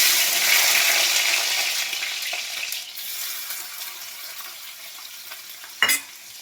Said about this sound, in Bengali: পেঁয়াজটা আমি একটু হালকা করে ভেজে নেব। আমি এটা ভাজতে থাকি।